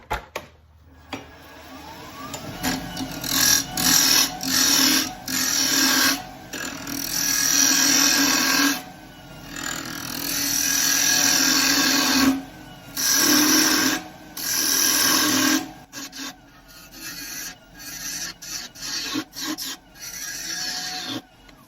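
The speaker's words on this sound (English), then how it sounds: "I'm just going to start rounding it out with a spindle gouge, trying to get a nice even semicircle." An apple-wood blank being shaped on a wood lathe with a spindle gouge makes a loud, rasping scrape that comes in repeated bursts of several seconds each, separated by brief pauses as the tool lifts off.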